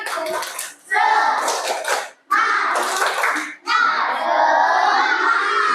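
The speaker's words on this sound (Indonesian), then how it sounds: "Ya, tepuk semangat." A group of schoolchildren in a classroom claps in rhythmic cheer-clap bursts, with short pauses between patterns, loud and close, mixed with some shouting voices.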